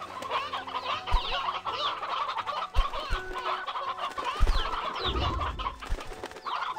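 Stony hens cluck and coo steadily in the video game Slime Rancher 2, a busy overlapping chorus of fowl calls with a few soft thumps and no voices over it.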